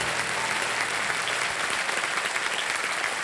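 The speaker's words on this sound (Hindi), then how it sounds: "तालियां बज जाएं इनके लिए" Studio audience applause on a TV quiz game show, a dense, even burst of clapping that fills the whole few seconds.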